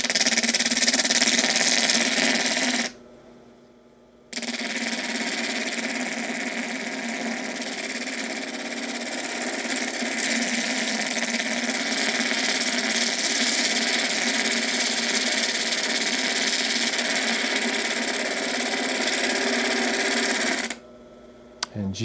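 A thunder egg's edge is beveled against an 80 grit diamond lapidary disc, giving a steady, close whirring grind with a light hiss that drops out briefly near the start and again at the end.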